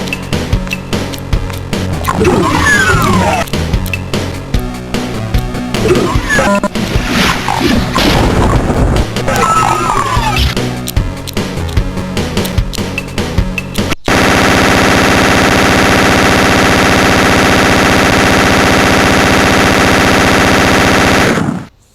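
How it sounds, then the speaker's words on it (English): Explosive barrels being shot in the video game DOOM: rapid gunfire and heavy booming blasts crashing together for about fourteen seconds, then a steady loud sustained tone that ends abruptly. "you can actually shoot the barrels, so it will actually be that kind of explosion kind of thing"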